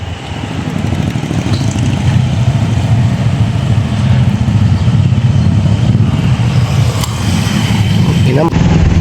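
Road traffic near a school, with cars and motorcycles rumbling steadily close by, an engine droning continuously throughout with occasional revving and faint talk mixed in.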